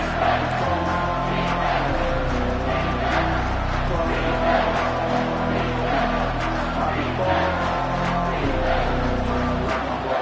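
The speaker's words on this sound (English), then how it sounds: "the crowd coming to life here, trying to help this defense down in the red zone" Football stadium crowd in a college football video game dynasty mode, a dense sustained roar of cheering and chanting rising as the defense holds in the red zone, continuous and full throughout.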